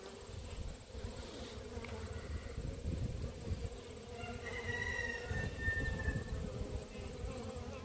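Honey bees buzz around an open hive during an October hive check, a steady low drone of many wings close by with a thin higher whine drifting in midway, no voices.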